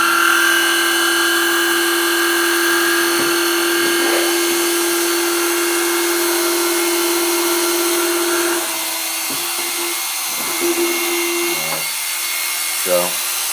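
A Milwaukee M12 Fuel brushless compact 12V impact driver runs steadily at a sustained high whine for about nine seconds, then drops in pitch with a few irregular knocks and bursts before settling near the end.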